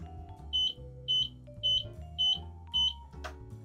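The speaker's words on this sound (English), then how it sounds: "if I turn it on, you're going to hear this beeping noise" Five short, high-pitched electronic beeps from a mobility scooter warning repeat at a steady rhythm, sounding over a low hum of background music.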